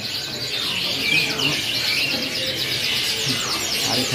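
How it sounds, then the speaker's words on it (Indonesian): Caged songbirds chirp and sing at a bird shop selling canaries, a steady bright twittering of several birds running throughout, fairly close and busy. "Lanjut yang di sini khusus kenari gacoran."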